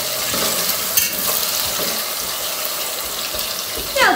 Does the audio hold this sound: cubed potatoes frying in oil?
yes